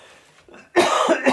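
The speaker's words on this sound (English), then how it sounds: "Yeah, I've got a cough." A single harsh cough from a man sick with COVID, sharp and close, following a quiet throat sound.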